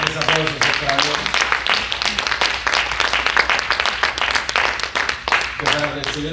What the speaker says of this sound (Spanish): fuertes aplausos para Dios